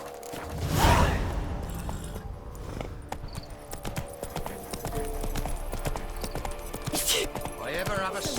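Geralt's horse Roach trotting in The Witcher 3, steady hoof clip-clops close by, with a voice speaking over the rhythm and a few whooshing movements.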